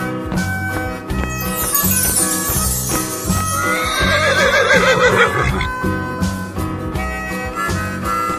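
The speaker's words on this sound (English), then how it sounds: "Horse." Horse neighing in an Animal Crossing game, a loud whinny rising and falling over a bouncy repeating game tune with rhythmic clip-clop beats.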